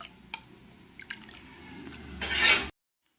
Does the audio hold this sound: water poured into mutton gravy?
yes